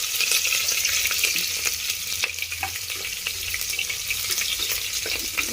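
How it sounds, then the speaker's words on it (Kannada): Mustard seeds, onion and curry leaves fry in hot oil for a dal curry, giving a steady, loud close crackling sizzle throughout with faint stirring scrapes and no talk. "4 ಸ್ಪೂನು ಎಣ್ಣೆ ಹಾಕ್ಕೊಂಡಿದ್ದೀನಿ. ನೋಡಿ ಚೆಂದ ಎಣ್ಣೆ ಕಾದಿದೆ. ಸಾಸಿವೆ, ಈರುಳ್ಳಿ,"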